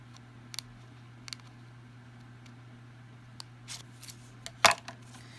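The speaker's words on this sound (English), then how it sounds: "So a little bit of trimming right here just to make it look like I intended to do that." Scissors trimming a Dollar Tree window cling die-cut: a few quick, close snips spaced apart over a low steady hum, with one sharper, louder cut near the end.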